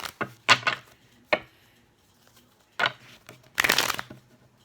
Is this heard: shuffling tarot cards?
yes